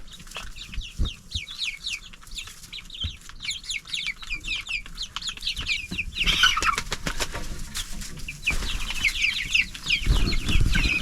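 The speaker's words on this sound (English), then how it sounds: "I heard one of the little baby birds squawking, like real funny" A young rooster chick squawks and chirps in quick repeated bursts, straining at an early crow, close and lively, with rustling and a few louder squawks toward the end.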